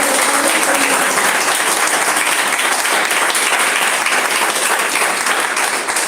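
A congregation applauding during an evening church service, dense and sustained clapping from many hands, loud and even from start to finish with no talk over it.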